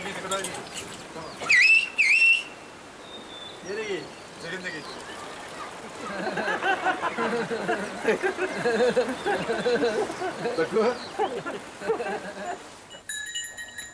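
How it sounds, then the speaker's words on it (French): Whistled language in the Kouskoï valley: a couple of sharp, gliding whistled phrases ring out early, then give way to a murmur of distant voices and background noise. "Personne ne sait quand et pourquoi on a commencé à siffler dans cette vallée."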